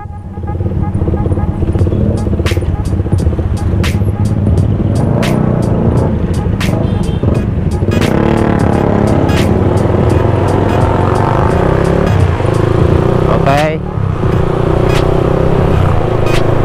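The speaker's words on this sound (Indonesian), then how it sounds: "Oh, motornya ngebut guys." A motorcycle speeds along in busy street traffic, its engine note rising and passing amid a continuous loud roar of other vehicles, with short sharp clicks and knocks scattered throughout.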